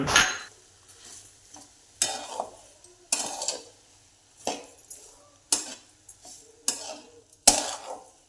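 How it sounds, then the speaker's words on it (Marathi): Carrot halwa being stirred with a spoon in a pan after sugar is added, giving repeated scraping, clinking strokes in a steady rhythm, close and fairly quiet, with no voices. "साखर याच्यात मिक्स करून घ्यायची"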